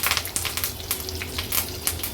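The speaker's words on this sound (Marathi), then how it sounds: "सर्वात आधी फोडणीला आपण ही कढीपत्त्याची पानं घालणार आहोत" Steady crackling sizzle of curry leaves hitting hot oil, with bursts of popping spattering throughout.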